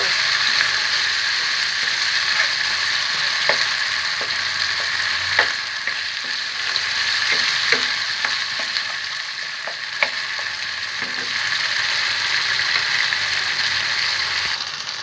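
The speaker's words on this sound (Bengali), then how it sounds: "লবণ দিয়ে টমেটো এবং মশলাটাকে ভালো করে কষিয়ে নিব" Chopped tomato and spices sauté with salt in a pan, giving a steady, close sizzle broken by faint clicks of a spoon against the pan, with no voices.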